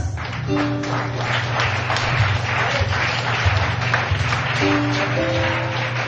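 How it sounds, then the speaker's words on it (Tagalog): A church congregation claps loudly and steadily through the whole stretch, with a low sustained hum and faint tones running underneath. "O, yung mga nasa likuran dyan, pwede ba kayo pumalakpak na malakas?"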